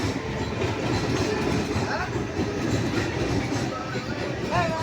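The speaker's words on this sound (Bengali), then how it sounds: "ট্রেনটা কিরকম যাচ্ছে।" A train passes close to a roadside path, giving a loud, continuous rumble with rhythmic clickety-clack of wheels on rails and occasional thin metallic squeals.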